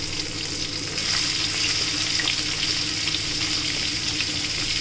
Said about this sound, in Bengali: দু খেপে পটলগুলো ভাজব